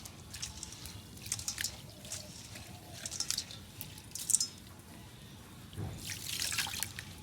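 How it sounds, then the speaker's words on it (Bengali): Lentils, including mung dal, being rinsed in water: soft splashing, dripping and squishing sounds come in irregular bursts, close and fairly quiet, with brief lulls between handfuls. "এখন ডালগুলা ধুয়ে নিলাম"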